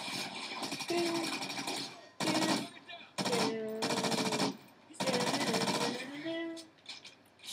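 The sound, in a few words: shotgun fire in Call of Duty video game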